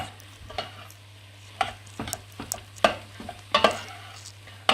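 White cabbage and grated carrot being stirred in a pot for cabbage soup, a series of close, irregular scraping and rustling stirs over a quiet low hum, with no voices.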